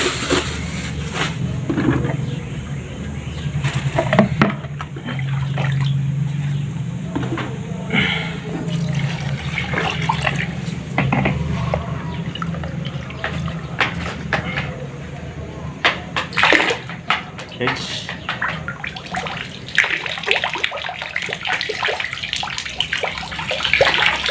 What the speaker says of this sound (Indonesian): Nih kolang kalingnya tuh kita cuci dulu si kolang kalingnya.